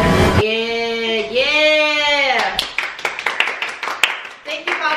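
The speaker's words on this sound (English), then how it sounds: "Guys, clap for David or else he gets self-conscious" People clap for a friend named David. A few sharp, uneven hand claps ring out close by after a stretch of loud, drawn-out vocalizing, mixed with brief chatter.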